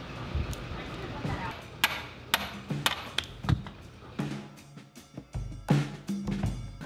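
Hammer striking a Lexus IS300 rear subframe part without a socket, a series of sharp metallic blows, some in quick bursts, close and fairly loud, with quieter clanks between.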